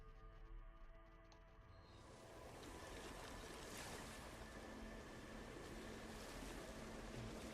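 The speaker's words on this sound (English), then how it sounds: "Oh, listen to the water." Steady rushing water, like surf or a stream, swells in after a quieter start on an alien planet in the video game No Man's Sky, then continues as a broad, soft, even wash with no talking.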